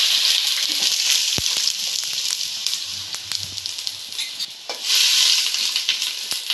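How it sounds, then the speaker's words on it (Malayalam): Sliced onions fry in hot coconut oil for a Kerala-style chicken curry, giving a steady, loud broadband sizzle with a few stirring clatters, heard alone throughout with a brief dip near the end. "നമുക്ക് സവാള ഇട്ട് കൊടുക്കാം."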